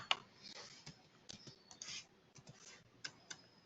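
Faint, close computer keyboard typing as a transaction code is entered in SAP, a sparse run of soft irregular key clicks and taps with short pauses between them.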